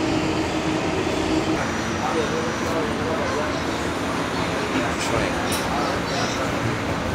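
A New York City subway train rolls along with a continuous low rumble and rattle, steady and close, with indistinct voices faintly underneath.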